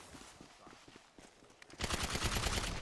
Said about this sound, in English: I'm just being shot.